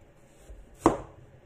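A single sharp knife chop through tapioca on a board, one close thud in an otherwise quiet moment.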